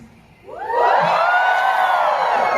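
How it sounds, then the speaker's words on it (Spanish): Local audience in a comedy show crowd shouting and cheering together, rising suddenly after a quiet moment into a loud, sustained collective roar. "A ver, un grito de los locales."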